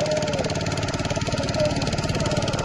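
A motor boat's engine runs steadily at close range with a rough, throbbing drone, loud throughout with no pauses.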